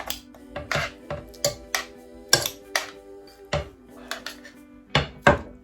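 Two beef shanks being set into a cooking pot, giving a series of sharp, close clanks and knocks of metal and meat against the pot at irregular intervals, with short tonal ringing in between.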